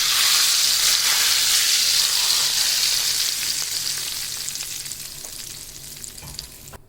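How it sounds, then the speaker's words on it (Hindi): Garlic, cumin and chillies hit hot oil for a masoor daal palak tadka, giving a loud bright sizzle that slowly fades over several seconds, close and without speech. "इसमें ये सारी चीज़ें शामिल कर दूँगी, लहसुन, ज़ीरा और मिर्ची"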